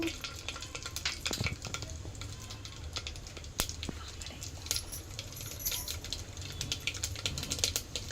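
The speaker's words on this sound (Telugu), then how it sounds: "ఇప్పుడు ఆవాలు చిట్పట్ట సౌండ్ వస్తుంది కదండి" Mustard seeds splutter and crackle in hot oil in a pan for Andhra-style spinach dal, giving dense, irregular sharp pops over a steady sizzle, close and fairly loud throughout.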